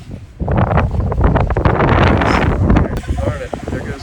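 A strong wind gust buffets the microphone outdoors during metal detecting in a rural park, a loud rumbling roar that swells and holds for several seconds before easing as a detector tone returns.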